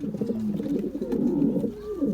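Fancy pigeons in a breeder's loft coo repeatedly, their low, throaty calls rolling close by and overlapping in a steady murmur.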